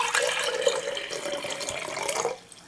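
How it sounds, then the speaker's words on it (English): Distilled water is poured from a container into glass pickling jars, giving a steady close splashing stream that trails off at the end. "Add some water to each jar."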